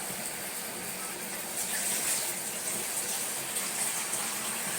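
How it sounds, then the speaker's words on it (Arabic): Steady rushing pour of water, continuous and close, filling a vessel for several seconds with a slight rise in the middle. "طبعا كده نحط شويه ميه."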